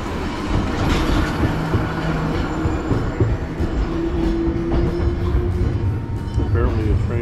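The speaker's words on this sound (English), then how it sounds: "If this is our train, we've got to jump a long ways to get on it." A train rolls along the rails at a station platform in Kyoto, a steady loud rumble with faint clicking and a brief high squeal, while people talk nearby.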